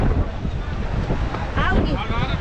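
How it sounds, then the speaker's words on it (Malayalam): Strong wind at the Dhanushkodi seashore buffets the microphone in a steady low roar, with a faint wash of surf beneath it. "നല്ല കാറ്റുണ്ട് കേട്ടോ"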